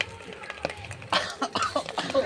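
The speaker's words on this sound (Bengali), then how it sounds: "ওইদিকে সবাই কাশছে" Several short coughing bursts come from people in a home kitchen while eggs are frying for chicken pasta, quick and fairly close over faint background noise.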